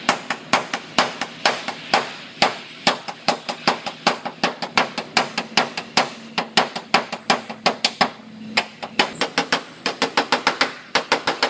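Hammer blows straightening the bent hood edge of an old Toyota, sharp metallic strikes in a steady, fast rhythm of dozens of hits, loud and close, with short pauses between runs.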